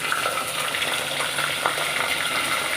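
Onion, garlic and ginger paste fries in a pan for a meat dish, giving a continuous soft sizzle with occasional faint stirring clicks and no talk.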